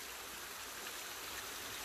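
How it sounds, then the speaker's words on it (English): Steady, broadband rush of a waterfall and stream flowing at a rocky hillside site, continuous and fairly loud with no voices over it. "you can see the waterfalls from down here"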